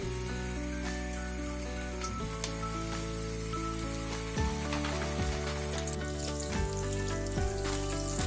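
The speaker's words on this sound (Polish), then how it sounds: "na patelnię rozgrzewam odpowiednią ilość oleju, ewentualnie smalcu i biorę się za smażenie kotletów" Oil sizzles steadily as breaded pork cutlets fry in a pan, a continuous crackling hiss with music playing underneath throughout.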